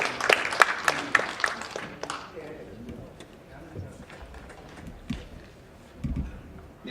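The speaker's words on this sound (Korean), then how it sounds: "여러분이 좀 더 큰 박수를 주셔야 긴장을 좀 덜하실 것" An audience at a Korean forum event claps for a speaker stepping up, a brief burst of scattered applause at the start that quickly fades into quiet room noise with a voice talking.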